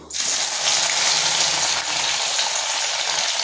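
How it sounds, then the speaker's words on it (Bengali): Soybean chunks fry in hot oil in a heated wok, giving a steady, loud broadband sizzle that holds without a break from start to finish, with no talking. "আর এই যে সোয়াবিন বড়িগুলো ভালো করে ভেজে নেব"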